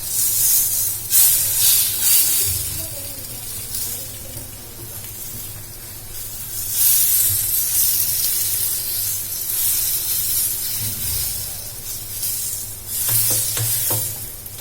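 Bread snack frying in oil in a pan on a stove, a steady sizzling hiss with brief louder crackling surges and occasional spatula stirring, no talking.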